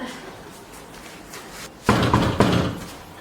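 A door opens as visitors arrive at a rural home: a quiet room, then a sudden loud thud, with a second bump moments later and some rattling after.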